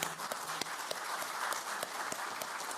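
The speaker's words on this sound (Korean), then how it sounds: "격려의 박수 한번 같이 칠까요?" A room of attendees at a political party workshop claps in encouragement, a steady patter of applause with distinct individual claps standing out. It is moderately loud and continuous, with no speech over it.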